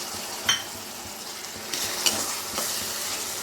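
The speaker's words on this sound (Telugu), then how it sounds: "ఇప్పుడైతే సన్నగా తరుక్కున్న టమాటా ముక్కలను కూడా ఇందులో వేసుకుని వేపేసుకుందామండి." Finely chopped tomato pieces are stirred into onions frying in a pan, giving a steady close sizzle with occasional scrapes and taps of the spoon against the pan.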